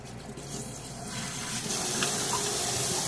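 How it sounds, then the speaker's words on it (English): High-pressure tap water gushes over electrophoresis equipment to rinse out gel, a loud, steady hiss and splash that grows fuller after the first second and continues without a break. "we just put high pressure water like that, and that's gonna get rid of most of the gel"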